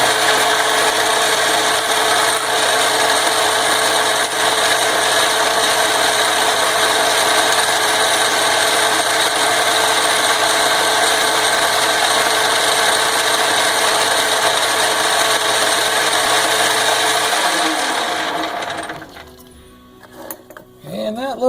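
An Atlas Quick Change 54 metal lathe takes a cutting pass, a loud, steady motor and cutting whine running continuously for about eighteen seconds before winding down near the end.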